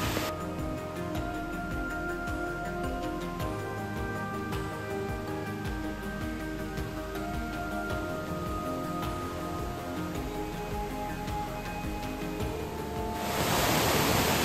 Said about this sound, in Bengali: যাতে নিচ দিয়ে এই জলের ধারটা যেতে পারে